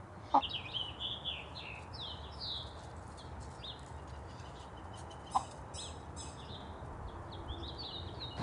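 Chickens clucking near a backyard coop, a scattered series of soft clucks and murmurs at moderate distance over a steady outdoor background, with a couple of sharp knocks.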